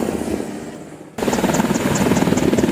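Chinook twin-rotor helicopter, rotor and engine noise with a rhythmic rotor chop that abruptly grows louder partway through, then continues as a steady, close, pulsing drone.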